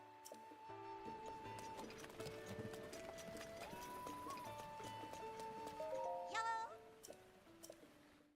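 Rhythmic clip-clop of horse hooves in The Legend of Zelda: Breath of the Wild, amid layered game music and effects, with a brief whinny-like burst near the end.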